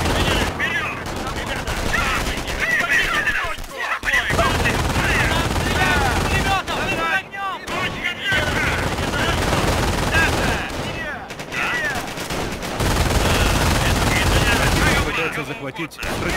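Machine gun fire and rifle shots rattle in bursts in the strategy video game Company of Heroes, loud and dense with brief gaps, and in-game voices call out between the volleys.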